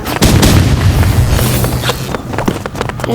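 Gunfire in the video game Rivals, loud, dense bursts of shots and booms packed together, close and continuous with little pause.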